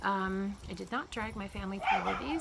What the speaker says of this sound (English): That's my dog, my wiener dog, barking at squirrels usually.